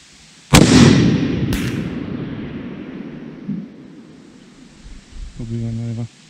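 .300 Win Mag rifle fired at a 1000-meter target: one loud sharp blast, a second crack a moment later, then a long fading rumble, followed by a short electronic beeping tone near the end.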